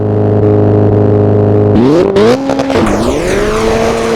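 Rally car engine in Richard Burns Rally held at a steady high drone, then surging and revving hard through shifting pitch at full throttle, loud and close with no talk.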